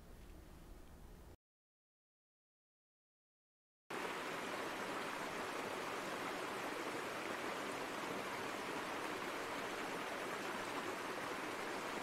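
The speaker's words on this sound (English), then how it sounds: "Lower down from the ridge is the headwaters, the first stream in the watershed." A small headwater stream high in the Eel River watershed runs steadily with a broad, continuous rush of water, close and moderately loud, broken by a short gap of silence near the start.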